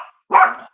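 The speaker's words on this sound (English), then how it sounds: "She's gonna bark for like a minute because my mom came in the door." A single loud, close bark from a dog reacting to someone coming in the door, preceded by a brief faint yip.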